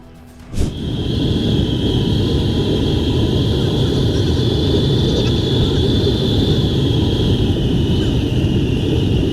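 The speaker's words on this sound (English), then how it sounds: "This passenger plane made an emergency landing on a Virginia highway just minutes after takeoff." A passenger plane making an emergency landing on a Virginia highway: a sharp onset then a loud, sustained roar of engine and rushing noise with a steady high whine, continuing unbroken to the end.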